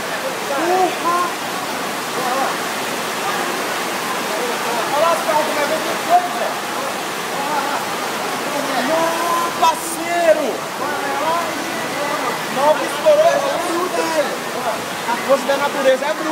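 Rain floodwater in a stream rushes steadily in a loud, continuous roar, with faint voices now and then beneath it.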